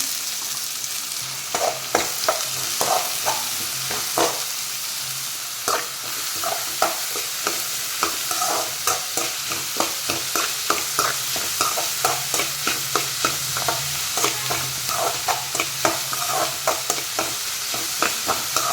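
Onions sizzle steadily in hot oil while a utensil scrapes and stirs the pan in regular, repeated strokes.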